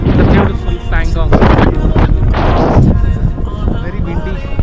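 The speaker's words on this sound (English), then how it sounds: "Very windy." Strong wind at Pangong Tso lake roars and buffets the microphone in loud, continuous gusts, with swelling bursts and no clear pauses.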